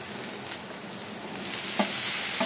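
Spiced mutton liver (kaleji), coated with salt, masala, ginger-garlic paste, lemon and coriander-cumin powder, fries in a pan with a steady close sizzle and a few stirring scrapes.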